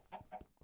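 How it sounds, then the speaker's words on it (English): Chicken in the Minecraft Skyblock game giving a few quick soft clucks in rhythm, faint and brief. "We have a chicken on our island."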